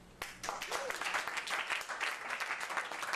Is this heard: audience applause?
yes